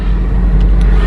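A car pulls away slowly in first gear during a driving lesson, giving a steady low engine rumble heard from inside the cabin, brief and fairly loud with no one talking.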